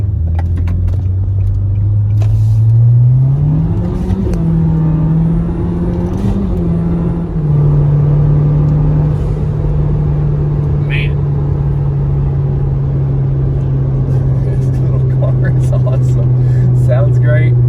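Nissan Juke fitted with a Stillen mid pipe exhaust, driving with a steady loud engine drone that rises in pitch as it accelerates, then holds at a cruising hum.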